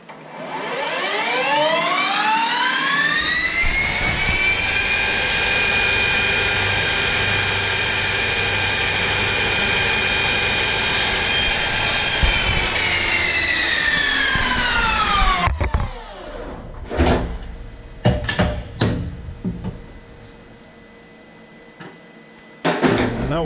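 A CNC lathe turns a guide roller, holding a loud, steady whining tone for about twelve seconds that then winds down, leaving scattered clanks and short machining noises.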